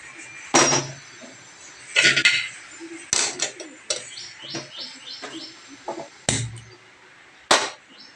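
A cooking pot of rice, washed and filled with water, set down on a home kitchen stove, giving several sharp metallic clanks and clinks spaced irregularly, with faint chirping birds in the background.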